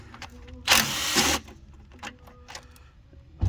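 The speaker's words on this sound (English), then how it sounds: "let's go ahead and remove all of these 8mm bolts" A power ratchet or drill whirs briefly for about a second on an 8mm intake bolt of a 2011 Ford Explorer, followed by small metallic clicks and taps as the bolt comes free, close up and without talk.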